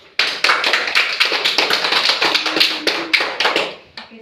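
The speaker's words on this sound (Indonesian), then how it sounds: "Mari kita berikan tepuk tangan." A classroom group claps hands in steady, fast applause, many sharp claps overlapping for several seconds before tapering off, close and lively with no talking.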